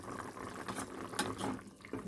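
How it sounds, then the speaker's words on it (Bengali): Okra curry broth boiling in a pot, a soft continuous bubbling and simmering heard close but quiet throughout, with no talking. "ঝোলটা বেশ ফুটে গেছে।"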